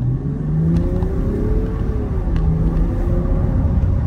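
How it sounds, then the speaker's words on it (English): A Land Rover Defender 130 in sport mode accelerates hard, its engine note rising steadily from inside the cabin over a steady road rumble, with no one speaking. "So here we go, yeah, the speed and sound of the Land Rover Defender 130."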